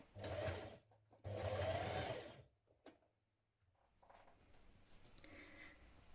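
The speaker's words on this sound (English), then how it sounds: "We're now going to stitch that in place with a 1 centimetre seam" A sewing machine runs close up, stitching a one-centimetre seam on a tunic in two quick whirring bursts, then quieter handling and rustling of fabric.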